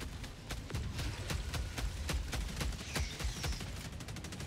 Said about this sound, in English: Autocannon, please just start ripping on them